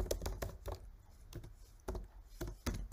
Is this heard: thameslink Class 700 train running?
no